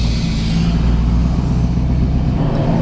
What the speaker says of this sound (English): The turbo sounds good.